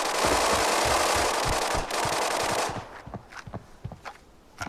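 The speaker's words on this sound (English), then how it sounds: "By the sound of it, there's a lot of AKs" AK rifle fire in the shooter game Arena Breakout crackles as a dense, sustained burst for nearly three seconds, then breaks off into scattered separate shots and thuds, with no talking.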